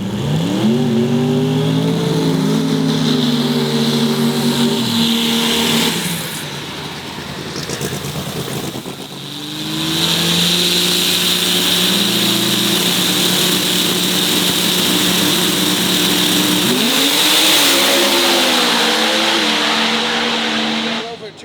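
Diesel Pro Mod drag car launching and accelerating hard down a drag strip during qualifying, a loud sustained engine roar with rising and shifting pitch, a brief dip midway, then surging again, with crowd or commentary noise faintly underneath.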